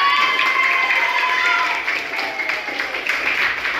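Classroom of students clapping together during a coding and AI teaching session, with children's voices chanting and calling over the clapping.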